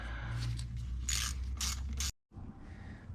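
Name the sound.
tightening hose clamp on throttle body intake coupler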